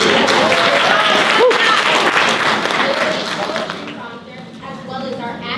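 Applause from a school audience for the judges panel at a Poetry Out Loud recitation event, a broad sustained wash of clapping that fades somewhat toward the end, with a brief whistle-like tone in the middle.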